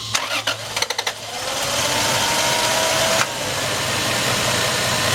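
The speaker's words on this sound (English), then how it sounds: "now we're going to start the engine for the first time and make sure everything runs properly" A Lexus 2JZ engine in a GS300/IS300, freshly fitted with a new valve cover gasket and spark plugs, cranks in several quick bursts, catches and settles into a steady, loud idle that runs slightly rough.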